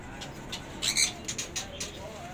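Red-collared bird in a bird shop in Long An singing loudly, a few bright bursts of chirping notes over steady background noise.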